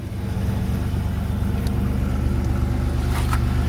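A 1986 Pontiac Firebird V6 idles while detergent runs through the engine, giving a steady, close low rumble with an even pulse and no talk over it.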